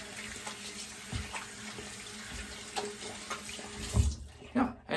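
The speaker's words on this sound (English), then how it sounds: "I'm first gonna rinse off my hands" Hands are rinsed under a running tap at a sink, with a steady stream of water splashing and irregular louder splashes as the hands move through it.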